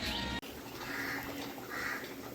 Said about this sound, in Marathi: पक्षी ओरडतेस बाहेर